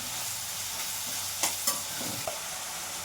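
Tomato fries with a little salt in a pan, a steady close sizzle broken by a few sharp scraping stirs, with no voices.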